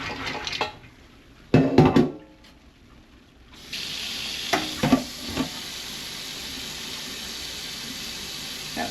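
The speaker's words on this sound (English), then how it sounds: "So I'm gonna drain those." Soaked beans being drained for home canning, with a few clattering knocks and bursts of beans shifting, followed by a steady hiss of water running out over the remainder.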